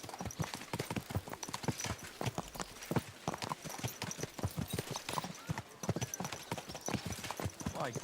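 Horse hooves clip-clop at a steady walking rhythm in the medieval game Kingdom Come Deliverance 2, distinct close thuds repeating throughout, with a faint voice in the background.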